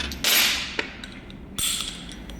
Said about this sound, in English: the first thing we're gonna do is loosen up the back wheel